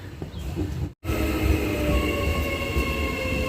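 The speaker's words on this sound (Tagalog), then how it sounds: "And sakay kami ng train." Onboard a train in Auckland, a loud steady rumble of the carriage with rhythmic rail clatter and a faint high wheel squeal, after a brief cutout near the start.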